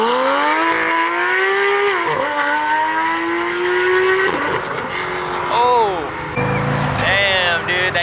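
A UV purple Porsche GT3 accelerates hard out of a car show at a park, its engine howling and climbing through rising revs with sharp gear changes and tire chirps, loud and close, while people talk and cheer around it.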